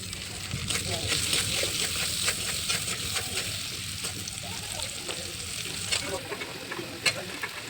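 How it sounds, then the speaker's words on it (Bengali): Potatoes with turmeric and salt fry in oil in a wok, a steady close sizzle running throughout with frequent scraping taps of a spatula as they are stirred. "আলুটা কড়াই দিলাম, ভালো করে নাড়াচাড়া করছি।"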